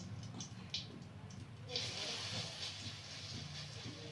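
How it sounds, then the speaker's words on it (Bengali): Lentil fritters (bora) frying in hot oil in a wok in a village kitchen, giving a steady broadband hiss with brief crackling bursts, close and continuous throughout. "বড়াটা ভেজে নিই"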